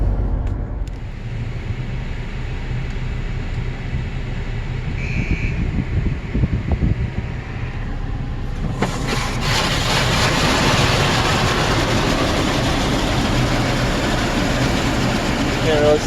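A car ride with a pet riding in a travel case, with a steady low engine and road rumble that swells into louder broadband cabin noise halfway through, and no talking.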